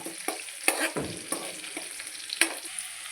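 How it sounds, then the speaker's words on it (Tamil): Green chillies for fish curry stirred and fried in a pan, giving a faint sizzle under a few sharp scrapes and taps of a spoon against the pan, spaced irregularly, close and quiet, without speech. "பச்சை மிளகாய் போட்டுக்கலாம், கிண்டி விட்டுக்கலாம்."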